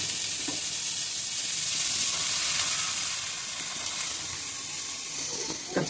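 Raw banana flower tipped into a pan of spices frying for a Bengali dish, giving a loud, steady sizzle and hiss that runs on without a break, with faint stirring and no talk.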